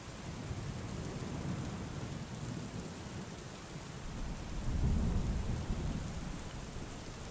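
A wild Highland thunderstorm with heavy rain, steady dense downpour with a low rumble of thunder swelling midway, loud and continuous with no voices.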